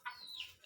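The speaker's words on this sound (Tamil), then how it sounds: "ஏன் கோழியா?" A single short, faint cluck from a chicken, a quick rising-then-falling call with nothing else around it.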